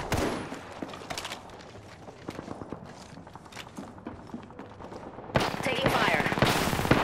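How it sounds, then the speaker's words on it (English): Video game gunfire rattles in rapid automatic bursts, with rounds of machine-gun fire and thuds throughout, growing louder and denser in the final seconds. "Taking fire."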